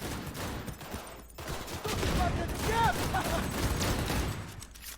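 Dense gunfire bursts from the video game Cyberpunk 2077 fill the clip continuously, swelling louder through the middle with sharp mechanical clicks layered in, while someone talks faintly underneath.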